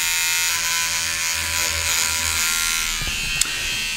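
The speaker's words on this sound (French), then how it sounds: "Et si je prenais une brosse à dents électrique pour ouvrir la serrure de la porte?" An electric toothbrush pressed against a door lock makes a loud, steady, close buzz that carries on for a few seconds, with a short metallic click near the end.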